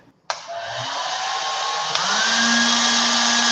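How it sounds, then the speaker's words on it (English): A hair dryer switches on abruptly and blows with a steady, loud whooshing roar, its pitch shifting slightly as it settles into a constant hum. "So, if I turn on the hairdryer"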